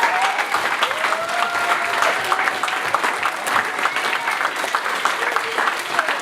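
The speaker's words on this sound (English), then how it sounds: "Can we give them a round of applause" An audience applauds at a school talent show, a dense, even stretch of clapping from a crowd in a hall, sustained at steady volume throughout, with faint voices mixed underneath.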